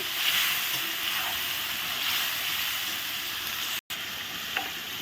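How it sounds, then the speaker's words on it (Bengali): Green chillies and ginger paste sizzle and hiss steadily as they are stirred in a frying pan, a continuous close frying sound with faint scraping, and one brief dropout near the end. "কাঁচা লঙ্কা আর আদা বাটা দিয়ে ভালো করে নেড়ে নিচ্ছি"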